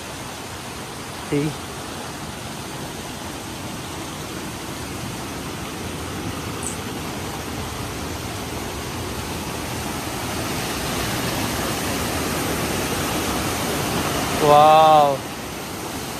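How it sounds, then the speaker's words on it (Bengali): Water pours down Bamni waterfall in a steady broadband roar that swells louder in the second half, with brief voices calling out over it. "ও দেখো, এই জলপ্রপাতের জল এই আসছে, এই আসছে"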